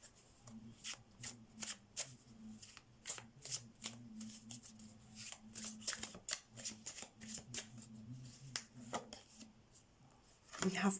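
Tarot cards are shuffled and drawn by hand, with a string of crisp, close riffles and flicks in uneven bursts over a low background hum and faint murmuring.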